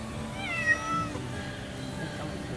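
A large cat meows while being pulled out of a car's engine bay, a few close, wavering cries over a low background hum.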